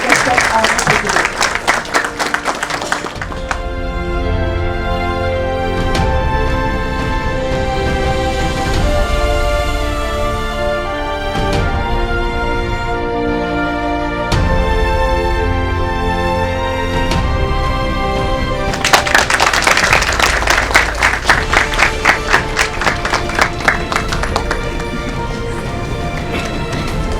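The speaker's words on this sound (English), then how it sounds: "A huge round of applause for Dr. Rajshekhar Meka, Chief Meteorologist, ISRO, and guest of honor for today." A crowd at an inauguration ceremony for a space weather prediction centre applauds steadily under loud ceremonial music, and the clapping swells again toward the end.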